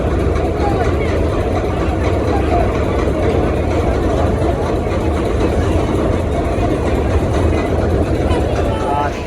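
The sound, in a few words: engine of the passenger launch Prince Awlad 10 reversing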